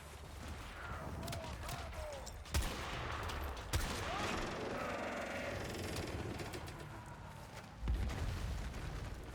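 A Ballista sniper rifle fires in Warframe at a Grineer base, with a few sharp, isolated shots spaced seconds apart over steady game ambience and faint bird-like chirps.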